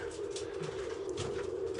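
Racing pigeons coo inside a pigeon loft, soft repeated low calls close by over a steady background hum, with no speech.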